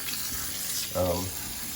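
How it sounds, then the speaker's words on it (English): Running tap water rinses a wild pork loin in a sink, a steady broadband splash under faint speech-like harmonic tones near the middle. "I'm going to wash this off a little."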